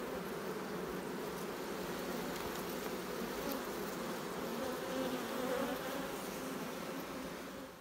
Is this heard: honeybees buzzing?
yes